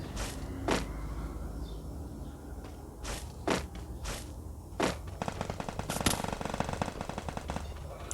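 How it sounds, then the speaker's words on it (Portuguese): Several sharp gunshots from a Counter-Strike match crack at irregular intervals, then a rapid burst of fire toward the end, over a constant noisy background. "Passou um tiro raspando em mim"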